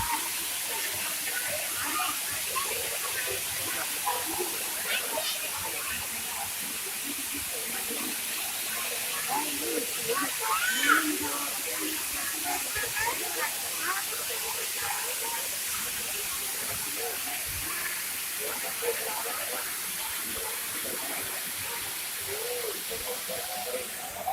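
Water falling and spraying at Rock Garden, Chandigarh, about ten meters from the fall, a steady broadband hiss of spray with faint voices and crowd sounds underneath.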